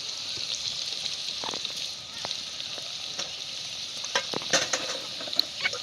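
Garlic, chopped chili and turmeric fry in a pan for varan bhat, a soft continuous hiss with occasional clinks and scrapes of stirring, fairly close and steady.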